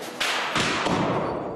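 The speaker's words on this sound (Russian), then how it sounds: "Под взрыв светошумовых гранат бойцы заходят на позицию." Two sharp, heavy bangs of stun grenades in quick succession during a police assault training drill, each leaving a broad hissing roar that slowly fades.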